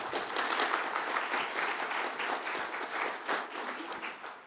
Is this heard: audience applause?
yes